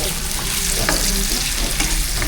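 Ginger sautéing in a small frying pan, producing a loud, dense, continuous sizzle up close, with occasional stirring scrapes cutting through the hiss.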